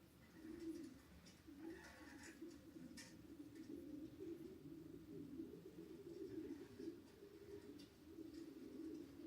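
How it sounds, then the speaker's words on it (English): Pigeons coo in low, soft, repeated throaty calls that keep going almost without a break. They play from a TV in a room, faint and slightly muffled. "Here's the pigeons from the YouTube on the TV"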